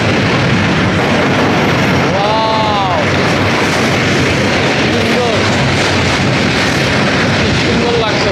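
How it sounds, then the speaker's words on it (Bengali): A train rumbles across the Hardinge Bridge in a loud, steady roar of rolling wheels and rail noise, with brief squeals and whistle-like tones rising over the continuous din. "হার্ডিঞ্জ ব্রিজের উপরে ট্রেন যাচ্ছে"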